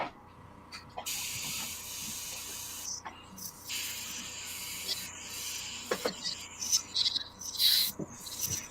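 An aerosol spray can lets out short hissing bursts that grow more frequent and louder toward the end, along with soft rubbing and handling noises up close.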